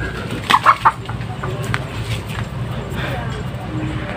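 Chickens cluck in a short burst of a few calls near a pigeon loft, with wings flapping, and a voice talks over the yard sounds.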